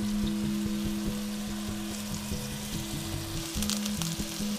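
Tuna steak sears in a hot pan with a steady, close sizzle and crackle, the frying constant throughout with a faint hum beneath.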